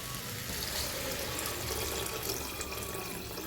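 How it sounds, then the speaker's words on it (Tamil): Water is poured into a cooking pot of chickpea rice, a continuous, steady splashing gush that is close and moderately loud, with no talking. "இப்போ இதில் கொஞ்சம் தண்ணி விட்டுடலாம்"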